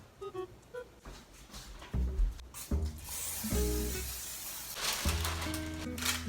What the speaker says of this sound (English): let's just spray this with some oil